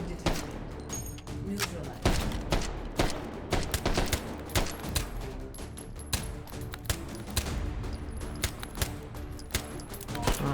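Rapid gunfire in the VR shooter Hot Dogs, Horseshoes & Hand Grenades, dense bursts of sharp cracking shots in quick succession throughout, loud and close, with a voice talking over parts.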